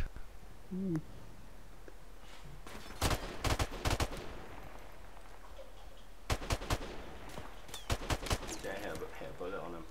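Gunfire in Call of Duty Modern Warfare Remastered comes in sharp bursts, two clusters of rapid shots a few seconds apart, loud against a quiet background with a faint voice briefly heard.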